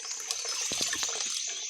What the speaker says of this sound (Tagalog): Dito lang kami mag-igib ng tubig